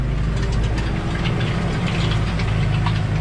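A diesel tractor engine runs close by, a steady low rumble with a rhythmic knocking chug throughout.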